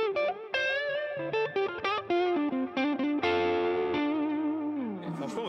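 Electric guitar played through a Tube Screamer clone overdrive pedal with added reverb plays a lead line of sustained, singing distorted notes and bends, clear and up close with no talking.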